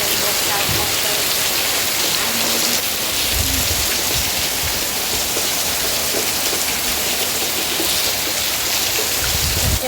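Steady rain falling outdoors, a dense continuous hiss of drops on surfaces that holds at an even level for the whole stretch, with faint low rumbles here and there.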